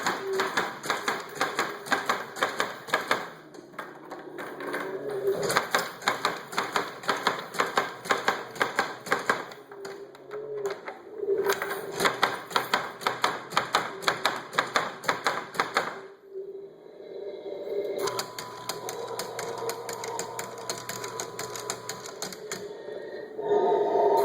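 A DIY Halloween monster-in-a-box haunted house prop opened up with its mechanism running, giving rapid, loud mechanical clattering and tapping in repeated bursts, with a brief pause midway and a steady hum underneath.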